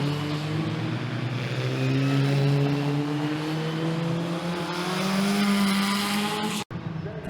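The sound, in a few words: historic Formula Ford race cars racing at Cadwell Park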